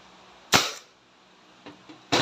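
A Crosman SNR 357 airgun revolver fires a pellet with one sharp, loud crack, followed by a couple of fainter mechanical clicks and a second loud snap near the end, close by and with no talk.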